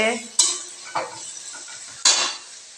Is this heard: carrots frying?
yes